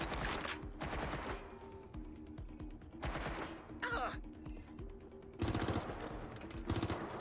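Bursts of automatic gunfire in Watch Dogs Legion come in several separated volleys of rapid shots, loud and close, with a player talking between them.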